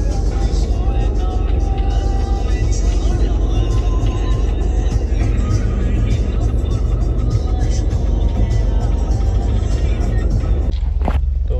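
Car engine and road rumble from inside a vehicle driving home and pulling in to park, a steady low drone throughout with a brief knock near the end; voices talk faintly over it.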